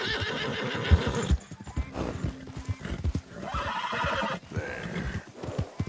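A horse in Red Dead Redemption II whinnies loudly and clearly among clip-clopping hooves, with its neighs rising and falling across the stretch, close and prominent.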